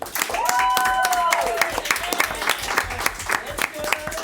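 Studio audience applause for the web team advancing to a French quiz-show final, a dense wash of clapping with whoops over it and a presenter's voice speaking alongside.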